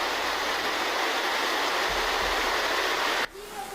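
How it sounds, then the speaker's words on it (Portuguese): Floodwater roaring as a steady, dense torrent near a collapsed bridge in Nova Iguaçu after heavy rains, loud and continuous, with a couple of low thumps before the rush cuts off abruptly near the end. "Presta atenção no som da força da água"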